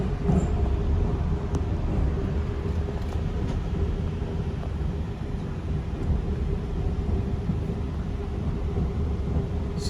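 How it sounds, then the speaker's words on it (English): A steady low rumble of an Amtrak Lake Shore Limited passenger train rolling in at a distance, continuous and even throughout, with no voices. "And it looks like train 48's coming in."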